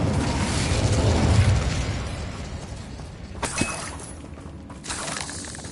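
Incendio fire spell cast in Hogwarts Legacy: a loud, sustained roaring whoosh of flame that fades, then sharp magical cracks and bursts of combat nearby.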